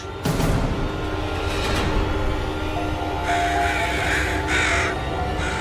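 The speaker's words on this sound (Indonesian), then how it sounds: "Gagaknya banyak banget toh." A large flock of crows caws loudly and repeatedly in overlapping harsh calls. The calls sit over a dense, constant rumble of background noise.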